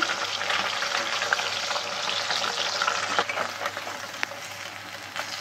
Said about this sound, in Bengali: একটু লাল লাল করে ভেজে নেবো মাছগুলো